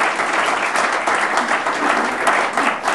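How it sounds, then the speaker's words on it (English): An audience gives close, loud applause, a dense, continuous patter of many hands clapping for three seconds without a break. "please clap your hands together for Lukas from Poland, from the 13th world."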